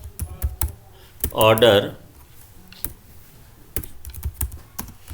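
Rapid clicking keystrokes on a computer keyboard while C code for matrix operations is typed, close and crisp, with someone speaking briefly in the middle.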